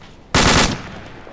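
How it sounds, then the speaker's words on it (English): A .50 cal machine gun in the video game Arma 2 lets off a short, loud, rapid burst of shots that stops abruptly and is followed by a brief echoing tail. "Some 50 cal's engaging those guys."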